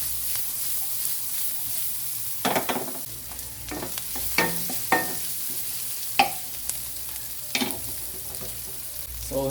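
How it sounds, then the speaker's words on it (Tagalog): Onion and ginger sizzle and fry in a pan for a quick crab-in-coconut-milk dish, with a steady hiss under repeated scraping stirs every second or two, close and fairly loud. "ilagay na natin yung ating sibuyas at saka yung ating luya guys"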